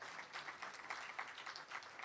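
Faint, steady audience applause at a university colloquium honouring a professor, a continuous patter of many hands heard from a distance with no voices over it.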